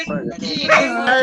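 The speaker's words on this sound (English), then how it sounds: "Sorry about my dog." A dog yips and barks briefly at close range, mixed with a voice talking over it in a single short burst.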